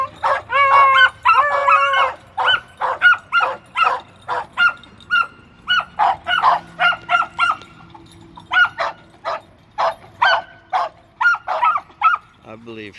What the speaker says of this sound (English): I think the others are barking out of aggravation